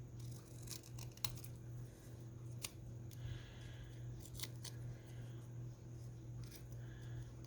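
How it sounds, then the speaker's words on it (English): Scissors trim paper for a small junk journal, giving several quiet, close snips spaced irregularly over a low steady hum, with no talk. "I'm going to trim this just a wee bit more"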